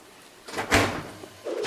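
An oven door swings open as a tray of roasted vegetables comes out, a single soft clunk with a brief rattle, near and moderately loud, followed by quiet kitchen noise.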